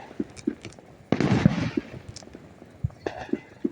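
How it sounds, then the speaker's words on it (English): Fourth of July fireworks go off around a neighborhood at night: a sharp, loud burst stands out among scattered nearer and farther pops and crackles, at an irregular rhythm with quiet gaps between. "Man, fireworks are everywhere tonight."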